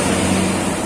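A Sri Kartini tour bus with a Zeppelin G2 body passing close by at Galendo, Ciamis, a loud, steady engine rumble and road roar filling the brief moment.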